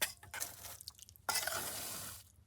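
A spoon scoops hot Maggi noodles from a large one-kilo bowl at a night campsite, giving close, wet clattering and scraping in two bursts with a short pause between, and no talk.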